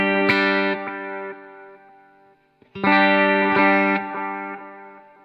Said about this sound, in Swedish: när man då sätter den på pingpong, då innebär det att då går feedbacken från respektive kanaler över till den andra sidan